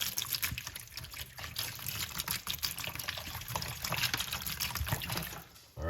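Tap water runs steadily for washing pomegranates, a dense, continuous splashing trickle close by that holds a constant level with no voices, then cuts off abruptly at the end.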